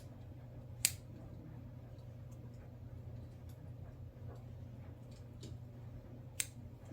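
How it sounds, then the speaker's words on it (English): Scissors trim two small yarn tails off a machine-knit neck warmer, giving two faint, crisp snips several seconds apart in a quiet room. "And then I trim these two little tails like that."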